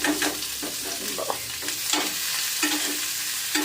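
Ginger, garlic and onion fry with whole cumin in hot oil in a home kitchen, a steady close sizzle under repeated scraping stirs of a spatula against the pan.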